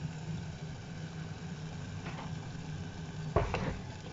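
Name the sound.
beaten hen's eggs poured into hot pan with tomato and onion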